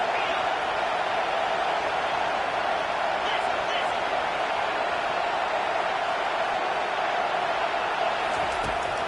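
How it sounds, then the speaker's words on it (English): A big football stadium crowd roaring loudly and continuously, a dense wall of noise shaking the stands as the home fans urge on their defense, holding steady throughout. "Listen to this crowd just shaking the girders of this place,"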